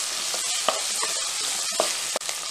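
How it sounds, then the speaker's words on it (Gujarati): Besan and capsicum mixture stirred in a frying pan, a steady sizzle with several soft scraping strokes of a spoon against the pan, heard alone and close. "સ્વાદ પ્રમાણે મીઠું ઉમેરીશું અને બધું બરાબર મિક્સ કરી લઈશું."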